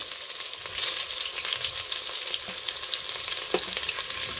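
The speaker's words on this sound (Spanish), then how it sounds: "como es una olla antiadherente, para freírlas necesitamos muy poquito aceite" Meatballs frying in a little oil inside a non-stick pot give a steady, close, dense sizzle with faint stirring clatter running through it, and no voices.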